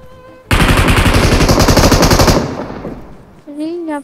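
Rapid, loud machine-gun fire in a battle-royale shooter game bursts out for about two seconds and then fades, followed by brief electronic game tones.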